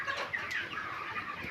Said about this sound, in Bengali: মুরগিগুলো বড় হয়ে গেছে